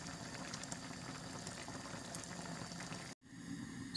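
Ogbono soup boils in a covered pot with a soft, steady bubbling simmer heard up close, briefly cut off near the end.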